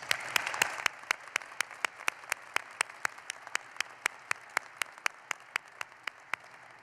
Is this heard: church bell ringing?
no